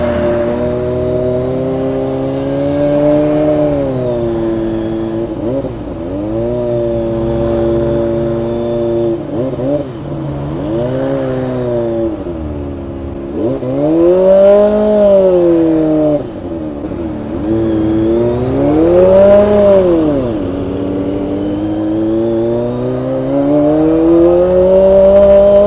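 A Kawasaki ZX-25R inline-four motorcycle idles and cruises through heavy city traffic in Baguio City, its high-pitched engine note rising and falling steadily with repeated throttle blips and revs, close and loud throughout.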